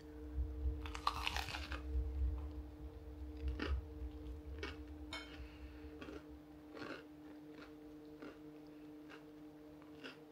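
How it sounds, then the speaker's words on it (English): Crisp, close crunches come from biting into and chewing a crunchy food, a few loud bites followed by softer chewing crunches over a quiet background hum. "Did you hear that crunch?"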